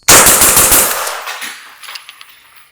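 A rapid burst of suppressed Knights Armament rifle shots, muted and dull rather than sharp, followed by a few quieter clicks and a fading hiss.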